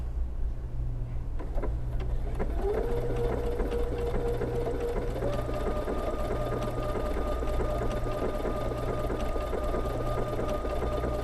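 A sewing machine stitches a replacement belt loop, its motor running as a steady, close whirring hum that rises slightly in pitch partway through and continues without talk.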